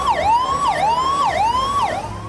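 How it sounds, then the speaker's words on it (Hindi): An ambulance stuck in traffic during a VIP motorcade in Agra blares a loud, close wailing siren that rises and falls in steady repeated sweeps, with no voices. "इसी ट्रैफिक में एक एम्बुलेंस फंस गई"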